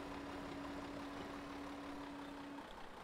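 Engine of a tractor pulling a plow in the Farm Simulator 2013 game, a steady low idling drone that runs unchanged the whole time with no talking.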